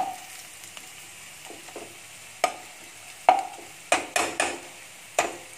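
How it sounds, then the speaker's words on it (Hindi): Tadka tempering for curd rice sizzles in a hot pan, a soft continuous fry with several sharp stirring scrapes and clinks up close, no talk. "तो ये हमारा देखिए तड़का रेडी हो गया है।"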